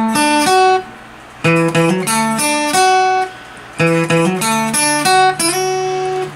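An acoustic guitar plays a short melodic phrase of plucked notes and chords, pausing briefly before repeating a similar figure, clear and close.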